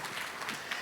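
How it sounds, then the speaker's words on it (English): Audience applause at a spiritual talk, a steady broadband patter of many hands clapping at moderate level for under a second, with no voices over it. "you can give him a round of applause"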